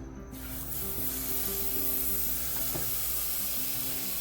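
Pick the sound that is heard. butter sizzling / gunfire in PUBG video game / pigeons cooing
butter sizzling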